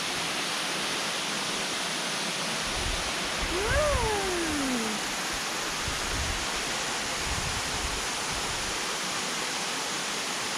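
A waterfall roars as a steady, dense rush of water that fills the whole scene evenly, with a faint gliding call briefly heard over it partway through.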